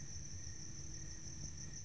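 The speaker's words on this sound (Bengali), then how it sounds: "নিস্তব্ধ বন, ঝিঝি ডেকে চলেছে অবিরাম" Crickets chirp in a still forest at night, a steady, unbroken high trill holding evenly throughout, fairly faint and with no other sounds.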